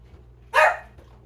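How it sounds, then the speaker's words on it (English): A dog gives one sharp, loud bark close by during turkey carving in a kitchen, with quiet background hum before and after. "my dog barks at me and talks to me"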